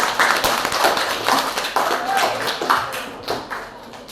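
Schoolchildren in a classroom clap their hands together in a loose, uneven burst lasting several seconds, with overlapping voices and chatter mixed throughout.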